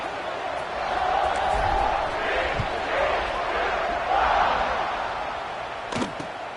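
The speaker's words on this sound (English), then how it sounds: "this crowd is feeling themselves after that last drive" A college football stadium crowd roars in a loud, sustained swell before a kickoff return, with peaks of cheering and a play-by-play voice talking over it.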